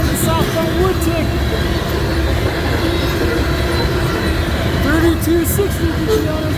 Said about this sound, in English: Southbound potash load shows up as it follows behind the southbound Woodtick.